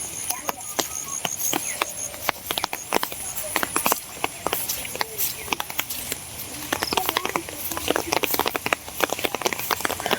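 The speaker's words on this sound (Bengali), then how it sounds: "বৃষ্টির স্পিড আস্তে আস্তে বাড়তেছে।" Rain falling outdoors in a rural spot among taro leaves, dense irregular patter and drips hitting surfaces close by, steady throughout with faint background noise.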